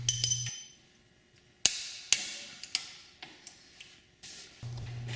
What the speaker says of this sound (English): Tighten all 4 of the 5mm Allen bolts and then torque them to 10 foot-pounds.